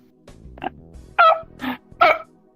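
A player's voice imitates a puppy in VRChat, giving several short yappy barks and yips in an uneven rhythm, close and fairly loud with quiet gaps between.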